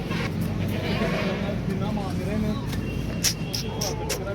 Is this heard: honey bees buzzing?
no